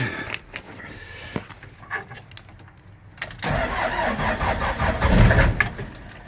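A Cummins 4BT diesel engine cold starts with no glow plugs or grid heater: a few seconds of labored cranking, then the engine catches and settles into a loud, rough, rumbling idle close by.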